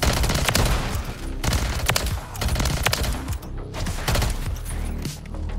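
Loud, close gunfire from the video game Modern Warfare 3, including shotgun blasts, comes in repeated bursts and sharp single cracks mixed with rapid automatic fire throughout, no speech over it.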